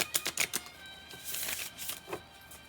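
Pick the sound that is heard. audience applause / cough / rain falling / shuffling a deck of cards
shuffling a deck of cards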